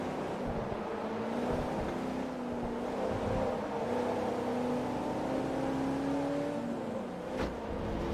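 An IROC car's engine drones steadily in Forza Motorsport 3, a sustained mid-pitched hum that rises and shifts slightly as the car accelerates, loud and continuous with no voices.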